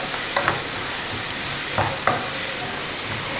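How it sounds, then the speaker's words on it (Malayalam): Onions sizzle in a pan with curry leaves and green chili, a steady close hiss with a few soft clinks from a spoon stirring. "നന്നായിട്ട് വഴറ്റി കൊടുക്കുക."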